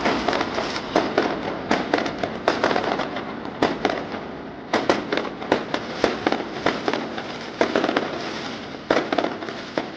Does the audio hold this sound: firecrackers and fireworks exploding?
yes